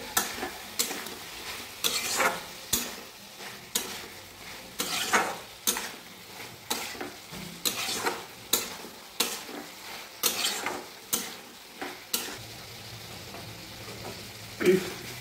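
Vegetables frying with mustard paste in a pan, stirred with a utensil that scrapes and taps the pan in regular strokes every second or so over a continuous low sizzle, heard close with no talk.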